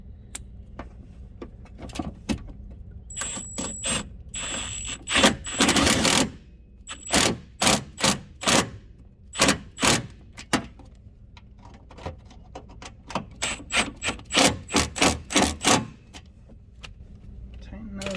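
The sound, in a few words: tightening bolts on Rokblokz fender flares, Kawasaki Teryx 4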